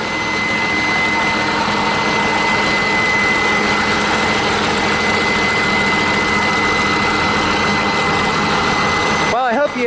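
A 1959 Caterpillar diesel generator runs under load, a loud steady engine drone with a constant whine layered over a low rumble, unbroken until a brief shift at the very end.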